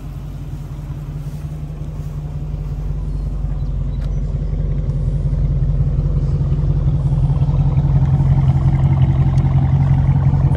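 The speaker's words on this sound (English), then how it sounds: "I hear that exhaust. That's straight pipe." A deep, steady straight-pipe exhaust rumble from a car engine idling close by, loud and continuous, with no talking.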